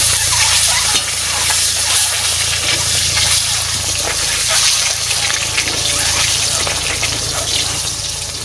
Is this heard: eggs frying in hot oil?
yes